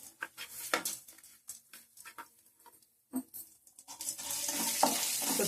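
Urad dal and chana dal fry in hot oil, giving an irregular crackle and patter with stirring scrapes, a short pause, then a denser, brighter sizzle building toward the end.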